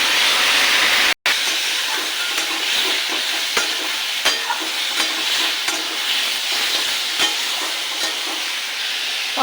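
Spices, salt, turmeric, chilli powder, tomato and slit green chillies sauté in a pan with a constant loud hiss, broken by a short silence early on, then repeated clicks and scrapes of stirring.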